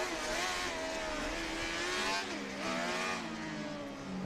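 A Formula SAE race car launches at an autocross course, its engine revving up and down in rising, falling pitch sweeps over a few seconds, heard from a moderate distance with no talk.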